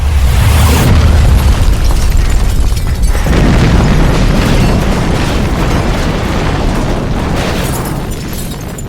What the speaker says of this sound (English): And there's two explosions.